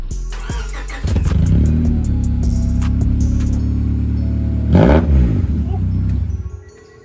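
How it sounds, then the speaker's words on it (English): An engine with its muffler removed starts up and runs loud and raw, with a harsh throbbing idle, one sharp rev in the middle, then settles before fading away at the end. "I want to see what it sounds like without anything. So pretty much muffler delete"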